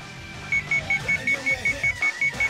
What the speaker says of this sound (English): The alarm on his bracelet began to ring